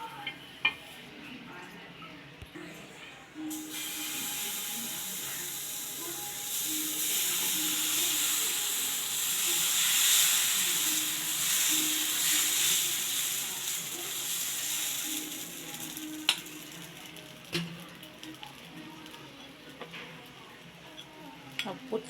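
A dosa cooks on an iron tawa greased with ghee, giving a long hissing sizzle that swells loud through the middle and settles back, with occasional faint utensil taps and some quiet talk underneath.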